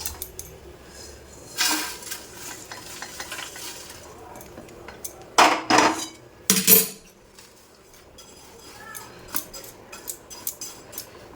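Flattened rice with a little salt is fried in a pan, with scattered scrapes and clatters of a utensil stirring it and a few loud bursts of metal scraping between quieter stretches.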